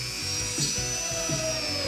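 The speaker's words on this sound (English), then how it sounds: "So then I pre-drill in the middle of the 2 holes." A power drill whirs steadily while pre-drilling holes in a model railroad base for installing a Caboose Industries hand-throw turnout, its motor tone holding throughout with slight surges in load.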